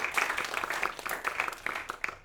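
Round of applause at a King of the Ring 2024 event: a small group's scattered hand claps in quick irregular bursts, fairly close and moderate in volume, with faint voices mixed in.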